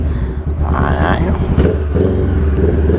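Honda 500X motorcycle fitted with a stainless steel 2-into-1 exhaust, revving loudly and close with a deep rumble rising and falling through the clip, with a voice talking over it.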